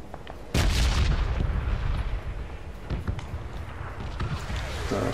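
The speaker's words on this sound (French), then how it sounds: "Il est en train de me tirer dessus." Enemy gunshots in PUBG on Xbox One: a heavy booming report lands early, followed by a few fainter shots and rumbling echoes over steady background noise.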